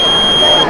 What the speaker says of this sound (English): that's a sensor, so you put that on like near a door, and if someone came in, you would beep